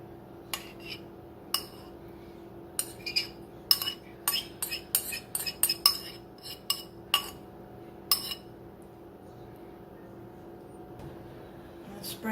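Metal utensil scraping and tapping on a pan while cranberry mix is spread over unrolled roll dough, a quick irregular run of close clinks and scrapes with no talk.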